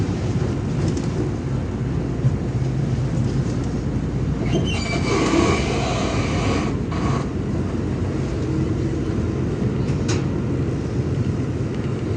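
A KRL commuter train pulls away from platform 12 at Manggarai station with a loud, steady rumble of wheels on rails. Brief hissing and squealing bursts rise above the rumble midway and again near the end.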